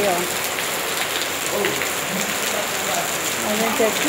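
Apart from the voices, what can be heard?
heavy rainstorm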